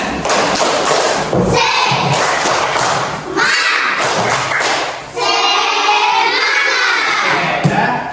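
Schoolchildren in a classroom perform a rhythmic spirit-clap cheer, loud patterned claps and thumps in bursts with children's voices shouting along.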